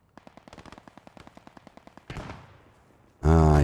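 In the Post Scriptum video game, a rapid burst of automatic gunfire rattles off in evenly spaced shots for about two seconds. A louder crack and its rumbling echo follow, then a sudden loud blast at the end.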